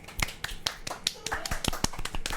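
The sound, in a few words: round of applause for the sister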